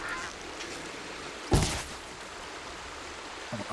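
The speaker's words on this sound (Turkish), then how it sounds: "Aa ördek." A duck or goose-like bird in Horizon Zero Dawn lets out one short honking call midway, rising loud over quiet ambient background, with a faint second call near the end.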